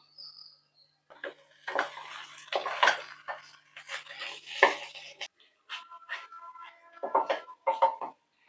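A spatula scrapes and taps against a pan while fish eggs (meen muttai poriyal) are stirred and fried with spices, giving irregular scraping strokes and metallic clinks, close and moderately loud.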